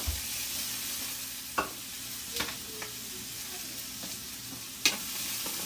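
Vegetables including cauliflower frying in half a teaspoon of oil give a faint, steady sizzle, broken by a few brief stirring clicks and scrapes at scattered moments.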